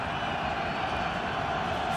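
A large stadium crowd at a Philadelphia Eagles NFL game against the San Francisco 49ers roars steadily as a wall of distant, sustained cheering with no breaks.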